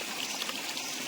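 Flowing stream water in an Uttarakhand forest, a steady close rush and trickle of water with continuous broadband splashing and no voices.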